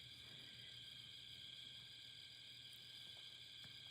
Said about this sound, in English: I'm just out here on the front porch swing, listening to the crickets and relaxing after a long day.